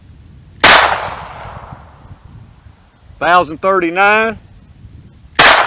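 Taurus TX22 .22lr pistol firing Armscor 36 grain hollow points, two sharp loud single shots several seconds apart, with someone speaking briefly between them.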